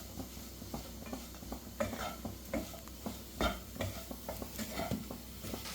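A mushroom mixture is stirred in a pan with a steady rhythm of soft spoon scrapes and taps over a low, quiet sizzle, close by and without talk.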